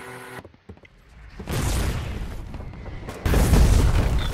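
Heavy 120mm artillery shelling in the war game Foxhole, a quiet start giving way at about a second and a half to a sustained rumbling roar of impacts that swells louder near the end, with no talk.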